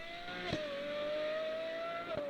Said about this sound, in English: they sound like no other modern Ferrari does. Here it comes.